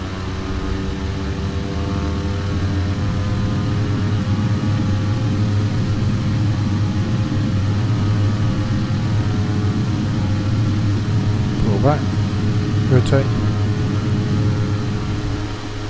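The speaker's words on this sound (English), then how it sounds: "Pretty short runway, so I'm going to put as much power onto it as possible." Simulated Beechcraft King Air 350 turboprop engines at full takeoff power on a short runway in Flight Simulator X, a loud, steady droning roar with a low propeller hum, and a couple of brief tonal chirps near the end.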